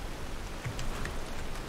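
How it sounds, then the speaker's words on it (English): Steady soft patter of rain in the video game Skyrim, a low continuous hiss with faint drops, fairly quiet and with no voices. "But the rain might be good for your crops."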